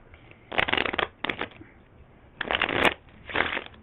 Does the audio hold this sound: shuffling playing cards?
yes